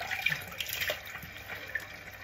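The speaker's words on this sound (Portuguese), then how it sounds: "Vou lavar o meu rosto com água aqui agora." Tap water splashes into a sink while a face is washed, making irregular, close splashing and running-water sounds at a fairly quiet level, with no voices.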